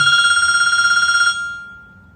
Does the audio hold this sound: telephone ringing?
yes